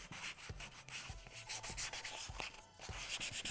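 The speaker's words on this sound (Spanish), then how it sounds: "tomamos la lija y comenzamos. Lo vamos a pulir muy bien por todos lados, todos los bordes, por debajo también." Sandpaper rubs over a small MDF wooden base in quick back-and-forth strokes, making a close, soft rasping scratch with a steady rhythm and a brief pause near the end.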